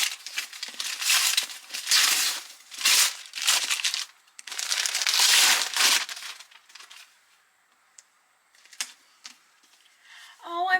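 Wrapping paper torn and crinkled off a book, coming as several loud, close bursts of crumpling and ripping separated by short pauses, then quieter rustles and a few small taps toward the end.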